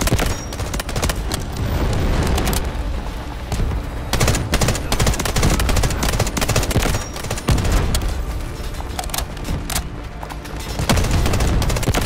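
Continuous automatic machine gun fire and explosions in the shooter game Delta Force, dense and loud for the whole stretch, with rapid bursts and heavy booms layered over one another and no voices.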